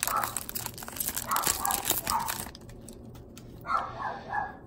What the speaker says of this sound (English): it's going to be some dog noise until he gets inside